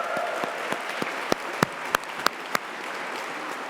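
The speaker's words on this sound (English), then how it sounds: "could I ask for a round of applause for them for the incredible work they did?" A round of applause at a university graduation ceremony in a large hall, a dense wash of many hands with a few sharp, close individual claps standing out before it thins.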